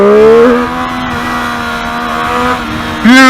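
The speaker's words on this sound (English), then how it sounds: "if I get slightly open roads, I would like to open the throttle and feel the acceleration" Triumph Street Triple 765 motorcycle accelerating on an open road, a loud close steady engine drone rising in pitch, with a brief dip and then a sharp rev near the end.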